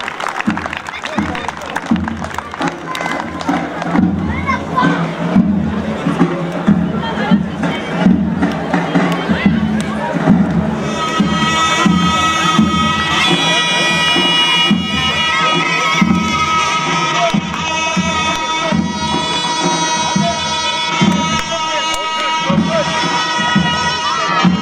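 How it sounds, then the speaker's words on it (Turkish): A crowd at an outdoor oil wrestling arena in Moers, Germany, cheers and applauds loudly and continuously, with shouting and babble, while a brass or reed band plays prominently through the second half. "Bu yiğit aslanlara alkışlarla diyelim maşallah."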